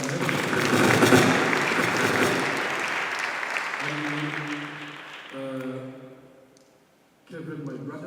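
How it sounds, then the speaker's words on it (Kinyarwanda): A church congregation at an anniversary gathering applauds loudly and warmly for about five seconds before the clapping fades, giving way to someone speaking with pauses. "reka dukoma amashyi cyane."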